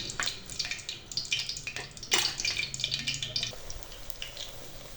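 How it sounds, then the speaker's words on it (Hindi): Pakoras deep-frying in hot ghee, a soft crackling sizzle with scattered bright pops and spits, fairly quiet and close, with no talk over it. "अब इसमें पकौड़े फ्राई करते हैं"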